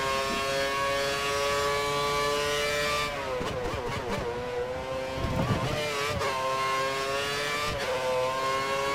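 High-pitched Formula 1 race car engine in the video game F1 2013 on the Canada circuit, sustained whine with gear shifts and pitch drops, loud and close, no talk.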